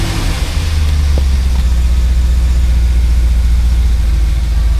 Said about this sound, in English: So I'm going to crank the engine